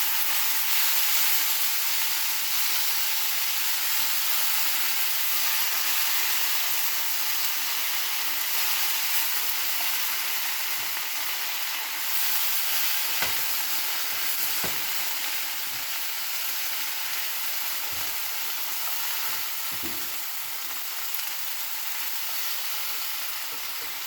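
Steady frying hiss of vegetables for a spaghetti squash dish being stirred together in a hot pan, with scattered soft scrapes and clicks of the utensil over the constant sizzle, no talking.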